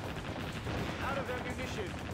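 Rapid missile launches and explosions from the naval combat video game Warship Gunner 2, a dense continuous barrage of booms and whooshing bursts under a voice talking.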